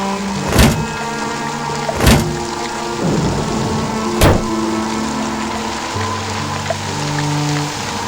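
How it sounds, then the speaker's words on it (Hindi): Heavy rain pours in a steady hiss while sharp cracks of thunder strike three times at irregular intervals, each a sudden loud burst, over a constant low tonal drone. "आसमान में तेज बिजली कड़की और बारिश जो थोड़ी थमी थी, एकाएक फिर झमाझम बरसने लगी।"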